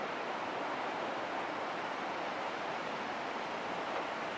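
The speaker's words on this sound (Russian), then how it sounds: "Вон видно, как волна бьется от пирса." Waves from Lake Ontario strike a pier on a windy autumn day, a steady broadband roar of surf and gusting wind without pauses, loud and continuous with no voices.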